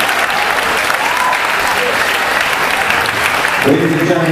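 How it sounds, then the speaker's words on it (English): Wedding guests break into a big round of applause for Kristen after her toast, a dense continuous clatter of many hands filling the reception hall, with a voice emerging at the end. "Big round of applause to Kristen."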